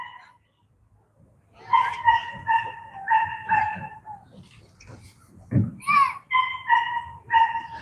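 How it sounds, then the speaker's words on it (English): A dog left alone outside gives a run of high, tonal whimpering yelps and short barks in two bursts, fairly close and clear against a quiet background, with a brief thump between them. "the dog you hear now"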